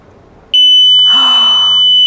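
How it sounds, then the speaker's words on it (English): A smart home security alarm goes off as a door opens, one loud, piercing, steady electronic tone that starts abruptly and holds without a break. "Their alarm will go off."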